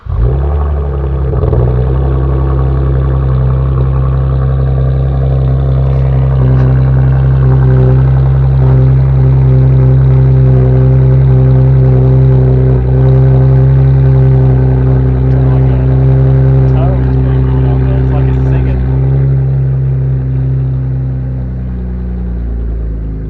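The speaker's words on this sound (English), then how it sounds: "Cold start, high flow cats with a BBK X pipe." Cold start of a Chevrolet Camaro fitted with high-flow cats and a BBK X-pipe exhaust: a loud, close, steady rumbling idle that holds throughout with a deep, even drone.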